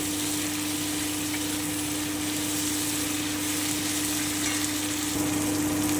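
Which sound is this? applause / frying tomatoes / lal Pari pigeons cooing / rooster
frying tomatoes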